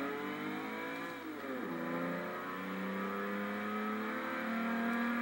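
A 1995 Volkswagen Corrado VR6 accelerates hard, its engine note climbing through the gears with a brief dip at a shift before rising steadily again, loud and close.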